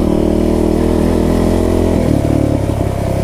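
A Kawasaki KFX 450R quad engine roars loud and close at high revs in a backyard motocross setting, a dense buzzing drone that drops in pitch slightly partway through, with no talking.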